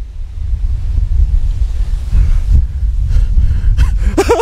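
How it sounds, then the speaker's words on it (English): Strong wind buffets an outdoor microphone in a steady, loud low rumble, with short gusting bursts and a brief voice near the end. "It's so damn windy, we can't hear a damn thing."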